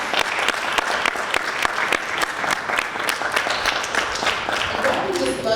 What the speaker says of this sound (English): Let's give Natalie a round of applause.